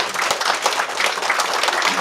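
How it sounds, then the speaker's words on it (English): An audience at a community meeting about a state amendment applauds, a dense, steady wash of many hands clapping throughout. "Y'all need to clap now."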